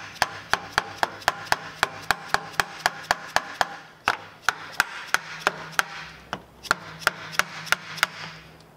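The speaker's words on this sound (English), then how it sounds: "A little more hammer action." Hammer driving steering bearings into the fork triple trees of a Honda CB500X motorcycle, a rapid run of sharp metallic blows in a steady rhythm, a short pause, then more evenly spaced strikes, close up.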